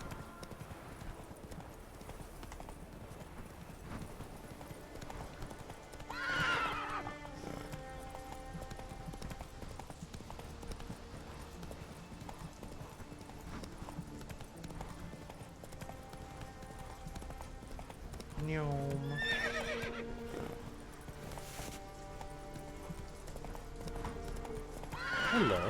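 Roach, a horse in the video game The Witcher 3, clip-clops along at a steady gallop for the whole stretch, with a couple of sharp neighs and whinnies cutting through, over faint game ambience and no voices.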